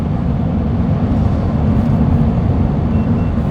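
Steady low engine drone from a touring vehicle cruising in top eighth gear at about 1500 revs on a Western Australian highway, with constant road and wind noise and no voices.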